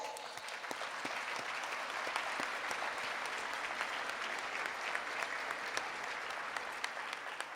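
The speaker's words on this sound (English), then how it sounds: "Please give our sponsors another big round of applause" Seated guests at a nursing awards gathering give sponsors a steady round of applause, a moderate wash of many hands clapping with a few sharp individual claps standing out, lasting over seven seconds.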